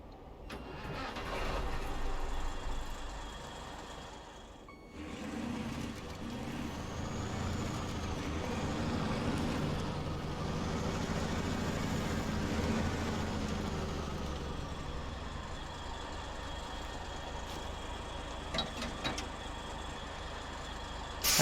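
A truck engine in SnowRunner, Amur Region, reversing with a trailer: a low steady diesel drone that rises and strains as the truck backs up, easing off near the end, with faint mechanical clanks.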